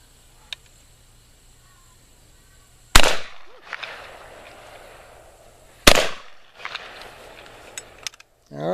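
Two loud, sharp blasts from a 12 gauge side-by-side double barrel shotgun, spaced about three seconds apart, each ringing out with a brief echo, followed by a few faint clicks and shuffles as it is handled.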